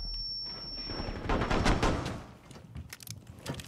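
Gunfire during a terrorist-hunt mission in a realistic hard-mode shooter, with rapid bursts of sharp shots and clustered volleys, fairly near, some louder mid-clip then scattered single cracks, with no talk.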